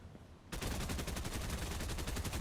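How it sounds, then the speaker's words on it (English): Rapid automatic gunfire inside a building in the Fortnite video game erupts abruptly after a quiet moment and then hammers on in a dense, continuous burst. "Looks like they're shooting in the building."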